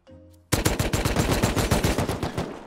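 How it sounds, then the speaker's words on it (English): Rapid automatic gunfire in the survival game Rust, a loud burst of roughly a dozen evenly spaced shots following a brief low hum, heard alone without talk. "That's a gun."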